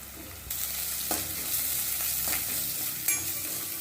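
Spices such as garam masala, red chilli powder and salt crackle in a frying pan for palak paneer, with a steady close sizzle and a few sharp scrapes of a spoon stirring, no talking.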